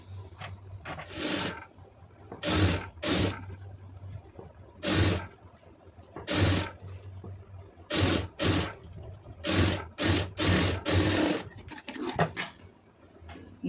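Sewing machine running in repeated short bursts while stitching a sleeve hem, each run of stitching loud and close, separated by brief pauses with a low steady motor hum beneath.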